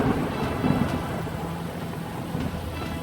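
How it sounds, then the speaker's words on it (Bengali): A fierce storm over a river, with heavy rain pouring and thunder rumbling, forms a dense, continuous roar with brief cracks, close and loud, and no voices. "ধর ধর ধর সিধু, আমার জালটা ঝড়ে উড়িয়ে নিয়ে গেল রে"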